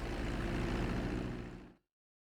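A plane approaching the runway for landing in Grand Theft Auto V: a steady, loud engine drone that holds for about a second and a half, then fades and cuts to silence.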